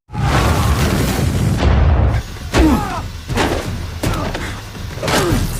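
A deep boom followed by several dull thuds and rumbling impacts, spaced a second or so apart, with faint voices in between.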